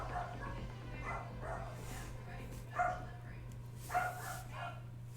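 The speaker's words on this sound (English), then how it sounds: "Tiny dog alert, guys." A tiny dog in a Warhammer tabletop setting gives a few sharp, yappy barks spaced apart over a steady low hum, fairly faint and distant.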